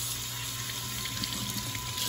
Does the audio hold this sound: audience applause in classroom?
no